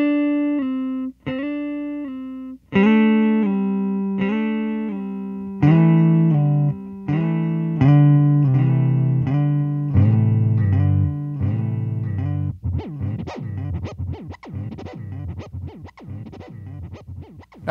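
Electric guitar through a BOSS DD-7 digital delay pedal plays sustained notes and chords with echoing repeats, then shifts to quick, rhythmic picked stabs with audible delay trails, clear and alone throughout.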